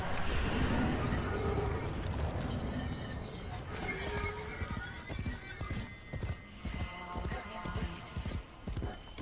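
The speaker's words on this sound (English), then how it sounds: "Oh, I get a horse? That horse can eventually fly." A horse in the video game Warframe trots in rhythmic clip-clop, the hooves loud and close, with game ambience and a brief whinny in the mix.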